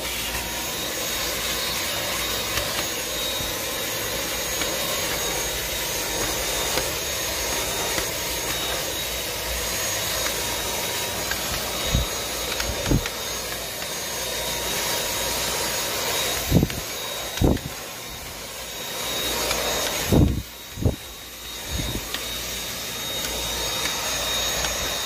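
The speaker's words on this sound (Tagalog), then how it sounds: "Kailangan vacuumin yan." A vacuum cleaner drones continuously at a steady level for the whole stretch, with a few short knocks and rubbing bumps near the end as it is moved around, and no voices.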